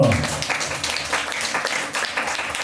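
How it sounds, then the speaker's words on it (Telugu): A church congregation at a Sunday worship service of Calvary Ministries in Vikarabad applauds with dense, sustained clapping throughout, close and loud, with no talking over it. "గట్టిగా చప్పట్లు పట్టు"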